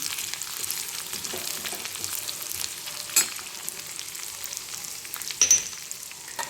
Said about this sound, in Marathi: ह्याच्यामध्ये लसूण टाकला आहे, मिरची टाकली, अद्रक टाकली, चांगले भाजायले